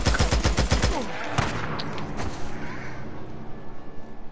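Rapid gunfire bursts in the video game Days Gone, a quick string of sharp evenly spaced shots up front, then one more loud crack before the scene settles into a noisy rumbling ambience.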